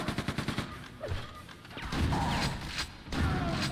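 Gunfire in the Quake II video game: a rapid burst of sharp shots at the start, followed by louder blasts, crashes and mechanical clatter in a busy, continuous game mix.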